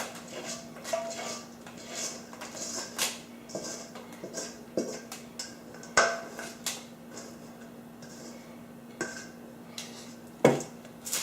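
Granola mixed with honey is pressed and scraped into a pan, giving scattered clinks, taps and scrapes of utensil against metal at an irregular pace over a faint steady hum.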